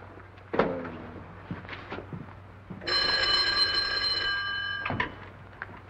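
An old 1939-era telephone bell rings in one sustained, moderately loud burst of about two seconds amid faint background noise and a few soft knocks.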